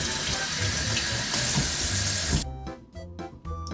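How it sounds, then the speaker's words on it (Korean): Running tap water gushes loudly over a shiitake mushroom growing kit, a steady hissing splash that stops abruptly partway through, followed by quieter drips and handling noises. "포장을 뜯은 후 흐르는 물에 세척해줍니다."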